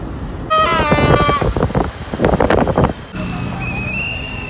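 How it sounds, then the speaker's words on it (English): Loud, shrill whistle blasts from people celebrating in a busy street in Kisumu, Kenya, during elections, one held note followed by bursts of chatter-like noise and a steady traffic hum. "So people are blowing their whistles and they're so excited and happy."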